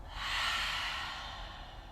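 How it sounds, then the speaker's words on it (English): A deep, slow breath let out at the close of a yoga flow, soft and airy, swelling and then fading steadily over about two seconds, heard alone. "Take one more big breath in. And one more exhale."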